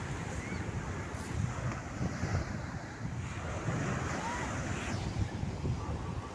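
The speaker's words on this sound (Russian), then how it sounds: "Волна увеличивается." Sea waves wash onto a beach in Crimea in summer, a continuous rolling surf with rising swells, heavy wind buffeting the microphone, and no speech.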